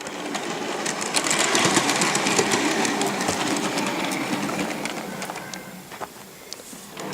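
A model train fitted with caddie bogies rolls along freshly laid track, a continuous close rumbling clatter with fine rhythmic clicks that fades slightly toward the end.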